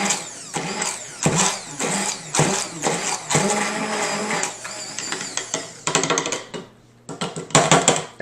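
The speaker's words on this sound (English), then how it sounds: "Here I'm going to use the container for my immersion blender." An immersion blender whirs in loud bursts through berries, stopping and starting, its motor grinding and churning with clattering against its container.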